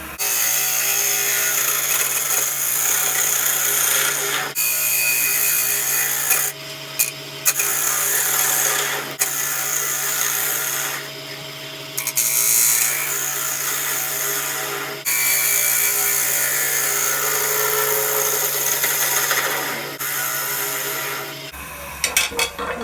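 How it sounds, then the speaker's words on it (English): A bottom feeder bowl gouge with a steep angle cuts wood on a lathe while turning a Viking bowl, a loud continuous scraping whir broken by short pauses as the tool lifts, with the motor hum underneath. "Just switching over to my bottom feeder bow gouge"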